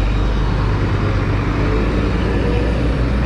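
A free shuttle bus to Masjidil Haram in Mecca gives off a steady, loud, close diesel rumble and road noise, unbroken and with no voices.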